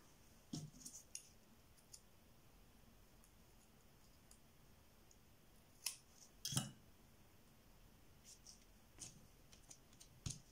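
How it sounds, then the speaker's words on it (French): Scissors cut paper during a crafting project where a fern piece has just been glued down. Faint, sparse snips and clicks come at irregular intervals over a quiet room hush, and nobody speaks. "Je vais pouvoir couper, j'espère."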